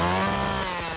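A chainsaw rigged to spark a gate fires up, its engine note loud and close, rising briefly then holding steady for about a second with no one talking.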